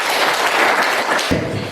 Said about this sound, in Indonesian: Mari kita berikan apresiasi dengan memberi aplaus.